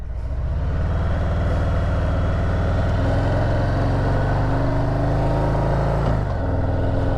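A 2023 Harley-Davidson Heritage Classic motorcycle pulls away, its deep V-twin rumble steady and loud up close, rising slightly in pitch as it gets moving, with steady wind noise throughout.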